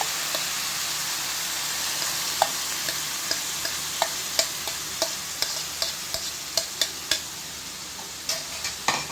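Carrots for a sweet carrot zarda stirred in a pan, a steady low sizzle with a series of light, regular scraping taps from a spoon against the pan, growing slightly more frequent toward the end, with no voices.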